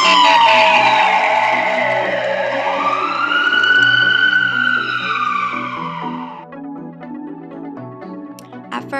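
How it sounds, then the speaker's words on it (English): A fast-moving ambulance's loud wailing siren sweeps past, its pitch sliding down abruptly as it goes by, then fading into rumbling traffic. "as a fast-moving ambulance passes you, the pitch of the siren abruptly drops?"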